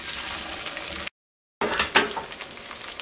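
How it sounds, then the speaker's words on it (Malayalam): Potatoes that were boiled beforehand are dropped into hot oil while a Kerala chicken roast is being made, giving a steady close sizzle and crackle. A brief silent gap interrupts it, then the frying carries on with sharp spits and the scrape of stirring. "ഈ സെയിം ഓയിലിലേക്ക് തന്നെ നമ്മൾ വേവിച്ച് വെച്ചേക്കുന്ന ഉരുളക്കിഴങ്ങ് ചേർത്തിട്ട് ഉരുളക്കിഴങ്ങും ഒന്ന് വറുത്തിട്ട് എടുക്കണം"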